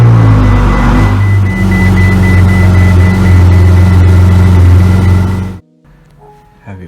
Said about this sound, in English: To start the engine, put your foot on the brake and hit that same red button.